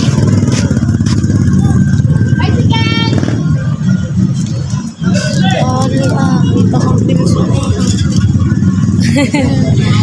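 Motorized tricycle ride with a steady loud engine drone and road rumble throughout, some clatter and intermittent voices talking over the noise.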